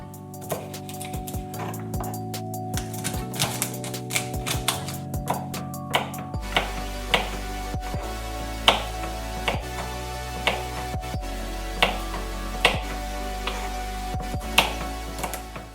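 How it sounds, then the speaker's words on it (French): A knife chops vegetables into small segments on a board, steady sharp cuts at a regular rhythm, close and fairly loud over a low background hum; no talking. "à partir de là, on va les couper en petits tronçons"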